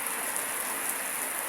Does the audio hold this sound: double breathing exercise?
no